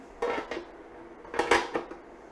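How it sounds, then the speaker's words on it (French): Metal clinks and clatters as a lid is set onto a pot of couscous with raisins and almonds: a couple of light knocks, then a louder rattling settle. "On met un couvercle dessus."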